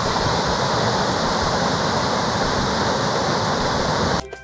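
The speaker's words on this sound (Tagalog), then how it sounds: "Grabe kusuga ag tubig." Strong, fast-rushing floodwater roars as a loud, steady, dense wash of noise that cuts off abruptly near the end.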